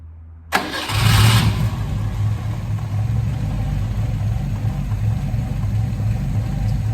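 A Fiat 147 engine with a newly fitted carburetor cranks briefly and fires up at once, then settles into a steady, close, rumbling idle that runs alone to the end.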